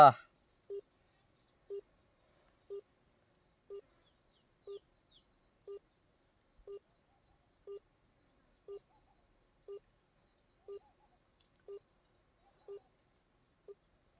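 Mobile phone call being dialed: a steady series of about thirteen evenly spaced short ringback tones, one per second, clear and alone with no talking.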